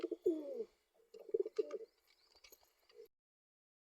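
Pigeons cooing in a rooftop loft, a few soft low coos in short bursts with pauses between, fairly close and moderately quiet, with no talking.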